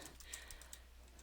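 Light, quick typing on a computer keyboard while entering names into an Excel spreadsheet, soft irregular key clicks over a faint steady hum.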